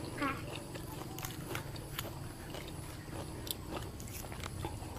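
Close, soft chewing and biting of salt-crusted grilled fish wrapped in vegetables, irregular moist crunches over steady background noise, with people talking nearby.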